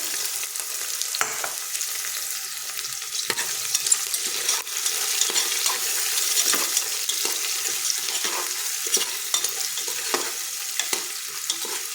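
Spices crackling and sizzling in hot oil for a Gujarati-style masala khichdi, a steady close frying hiss with scattered sharp pops and spatters throughout, no voices.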